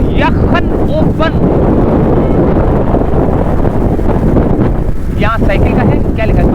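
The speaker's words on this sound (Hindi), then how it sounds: "तो दो दरिया का सफ़र है और ठंडी ठंडी हवाएं," Cool seaside wind buffets the microphone during a bike ride from Clifton's Clock Tower to Do Darya in Karachi, a loud, constant roar with faint chirping tones and passing traffic beneath.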